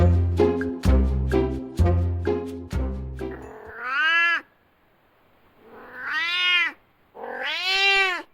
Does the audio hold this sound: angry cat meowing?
yes